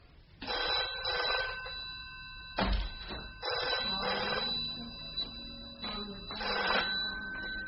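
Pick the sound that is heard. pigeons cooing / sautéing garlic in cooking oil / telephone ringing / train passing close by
telephone ringing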